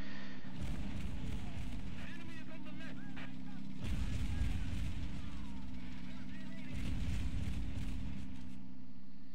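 Gunfire and artillery rumble from the video game Men of War Assault Squad 2, a steady dense battle din with heavy low booms and crackling shots throughout, a voice talking over it.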